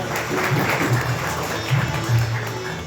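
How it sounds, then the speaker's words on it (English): Seminar attendees give a round of applause for a university vice chancellor, continuous dense clapping at moderate volume, with a voice speaking faintly over it. "Please give a big round of applause for Professor S. Dhami sir"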